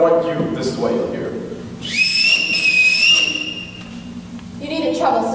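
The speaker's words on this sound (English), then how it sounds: "Everyone in this house answers to a whistle." A single shrill whistle blast sounds for about a second and a half on a stage during an amateur production of The Sound of Music, with someone speaking before and after it.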